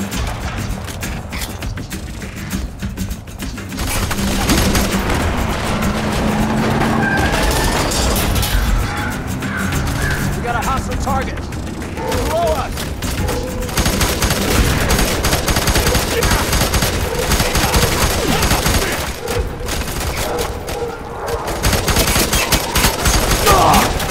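Gunfire in the F.3.A.R video game during a slum fight, dense rapid shots and bursts running almost continuously and loudly, mixed with other combat noise.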